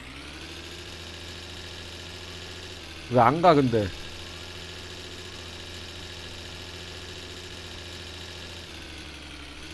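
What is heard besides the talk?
car engine idling, video game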